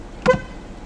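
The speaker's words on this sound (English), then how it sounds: "Hit the horn." A brief car horn toot, a single short blast of a few tenths of a second sounding close during a behind-the-wheel driving test in Georgia, with faint road hum before and after.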